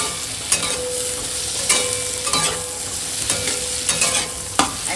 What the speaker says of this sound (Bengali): এখন এই বাটারের মধ্যে আমি এগুলো সব দিয়ে দেবো, দিয়ে ভালো করে ভেজে নেব